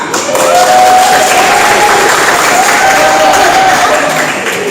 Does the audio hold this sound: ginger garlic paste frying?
no